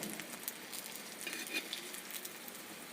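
Taro leaf pakoras fry on a tawa with a soft, steady sizzle and crackle, faint and close, with small pops scattered throughout and no talking.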